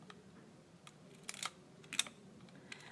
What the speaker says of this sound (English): You'll advance your camera with this dial. You just kind of pull it forward with your thumb, and then you use this button to take the photograph.